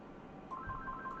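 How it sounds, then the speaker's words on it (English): A telephone rings faintly in the background, a repeating electronic ringtone pulsing in short even bursts that starts midway and continues to the end. "I get really annoying phone calls every 20 minutes."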